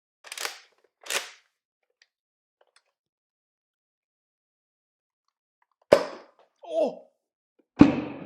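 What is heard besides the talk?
homemade Nerf shotgun firing, projectile hitting the camera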